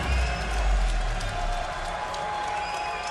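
A New York crowd cheering and applauding a kickboxing winner at a GLORY event, a steady wash of applause and cheers filling the arena throughout, with a low rumble underneath.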